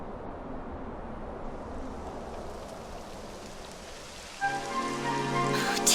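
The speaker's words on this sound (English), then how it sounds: "It would have to go and start raining, wouldn't it?" Rain falling in Dragon Quest XI S on Switch makes a steady wash of patter that holds evenly, then a tonal game music swell rises over it near the end.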